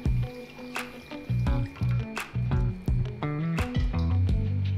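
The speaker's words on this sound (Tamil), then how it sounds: "ஹாஃப் கப் அளவுக்கு தண்ணி இதில் ஊற்றிக்கிறேன்" Half a cup of water is poured into a pan with sugar for lollipop candy, giving a close, uneven run of splashes and drips in short bursts.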